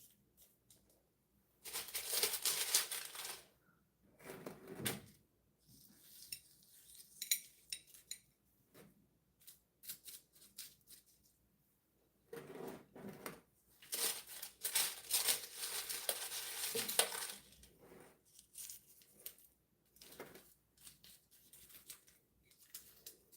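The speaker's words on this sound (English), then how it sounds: "I can use my spoon to have some marble chips around the succulent to hold on to the roots" Metal spoon scraping and clinking through small marble chips around a succulent's roots in a tray, bursts of gritty rattling separated by quiet pauses, close and fairly faint.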